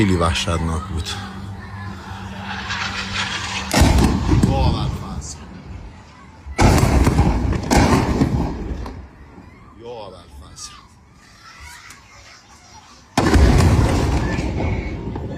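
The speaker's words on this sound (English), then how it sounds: "footage of U.S. airstrikes hitting Iran's Bandar Abbas area tonight" U.S. airstrikes hitting the Bandar Abbas area of Iran at night, with three heavy, booming blasts a few seconds apart, each loud and rumbling before fading, while someone talks between and over them.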